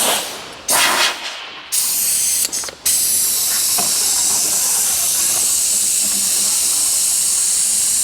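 Loud, steady hiss of RustKote rustproofing spray being applied to the underside of a 2024 Ford Maverick, with a few short stops and restarts early on before one long continuous spray.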